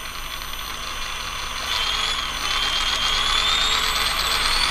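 An electric RC rock crawler motor driven by a Cobra 10 ESC spins up with a steady high-pitched whine that slowly climbs in pitch and grows louder over a low mechanical hum.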